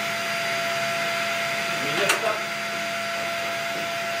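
A vacuum cleaner sucks up dust from wood pellets inside a pellet stove, giving a steady loud motor whine with a brief rattling surge of debris midway and a voice briefly heard.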